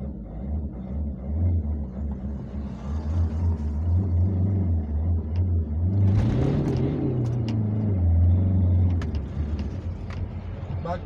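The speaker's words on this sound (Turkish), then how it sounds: "Bir ara gaz yapalım mı arkadaşlar?" A car engine rumbles steadily, then revs up with a rising, roaring swell before settling back, close and loud throughout, while driving in the rain.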